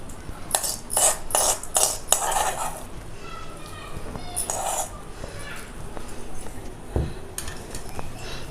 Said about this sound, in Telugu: ఇంకో తాలింపు వేసేస్తున్నా